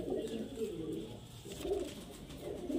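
Highflyer Giribaz pigeons coo softly and continuously in low murmuring phrases, partly buried under steady background noise and a faint voice.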